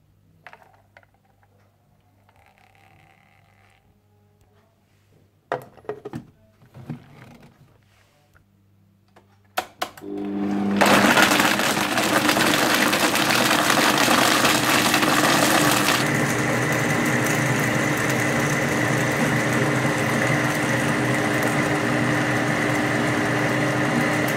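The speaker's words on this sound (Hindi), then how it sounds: "और क्रीम, रोज वाटर और शहद डालकर अच्छी तरह से ब्लेंड कर लें।" A blender whirring through badami sharbat with cream, rose water and honey, starting after a few clicks and knocks and running loud and steady for over ten seconds, the pitch settling lower partway through.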